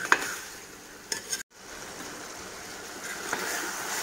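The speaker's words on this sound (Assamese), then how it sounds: "5 মিনিট লৰাই আছোঁ।" Chicken frying in a pan with a ground spice mix of dried chili and five-spice, a continuous hiss with a few scraping stirs of a spatula and a brief dropout in the middle.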